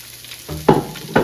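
Curry leaves and onion sizzle in oil in a pan for crab masala, a short close burst of frying with two sharp stir scrapes over the hiss.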